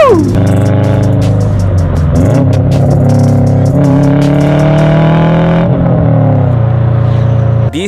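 A Subaru STI engine revs loudly through an aftermarket exhaust, close by. It climbs and holds in long sustained pulls with a raspy, droning tone before dropping off at the end.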